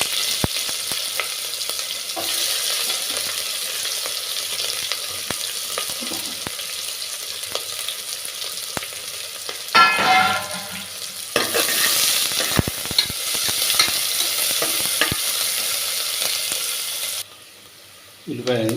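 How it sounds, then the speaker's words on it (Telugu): Onions sizzle and fry in a pan for mutton boti curry while a spoon stirs and scrapes them steadily, with occasional louder clatters, a brief pause near the end and a voice speaking now and then. "ఉల్లిపాయలు వేసుకోవాలి."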